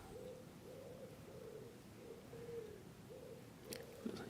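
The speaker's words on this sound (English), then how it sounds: "Hear the pigeons cooing." Pigeons cooing softly in a repeating rhythmic pattern, faint and somewhat distant over a low background hum, with a couple of small clicks near the end.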